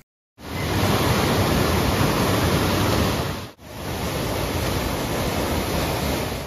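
Loud, steady rush of water pouring out through the sluice of a large village lake, a continuous roaring torrent close by with a brief break midway.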